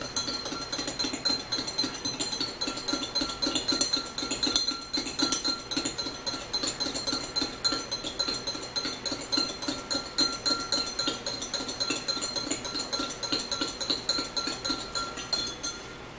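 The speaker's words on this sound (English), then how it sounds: "Stir it up." A spoon stirring apple cider vinegar water in a glass, making rapid, steady, ringing clinks against the sides that continue evenly for the whole stretch.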